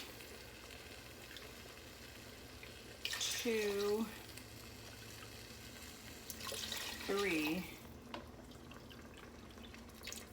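Warm water poured from a big measuring cup into a cooking pot for fideo noodles with garden tomatoes, two short splashy pours a few seconds apart over quiet kitchen background, with a voice counting between them.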